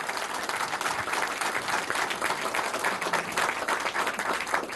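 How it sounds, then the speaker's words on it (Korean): Audience at a firefighters' forum in Korea gives sustained encouraging applause, dense steady clapping from a room full of people for the whole stretch without let-up. "다시 한번 크게 부탁에 격려의 박수 한번 부탁드리겠습니다"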